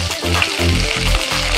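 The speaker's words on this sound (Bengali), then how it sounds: "এটাকে একটু ভাজা ভাজা করে নেব, সতে যেটাকে বলা হয়।" Chopped cauliflower leaves fry in a hot pan with oil, giving a steady, close sizzle and crackle, broken by soft scraping from occasional stirring.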